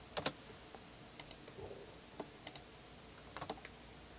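Sparse, quiet keystrokes on a computer keyboard as AutoCAD shortcut commands are typed, scattered in short bursts of one to three clicks with pauses between, close and clear in a silent room.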